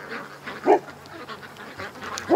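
Ducks calling outdoors, several short honking quacks spaced irregularly at moderate distance over a quiet background.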